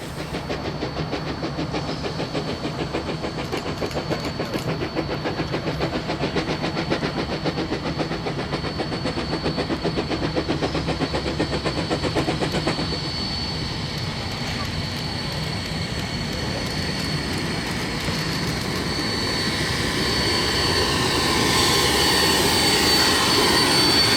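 Steam locomotive F 163 makes a photo run-by at Ashhurst station, a continuous rumbling, chuffing roar that holds steady and then swells louder toward the end as it passes close by.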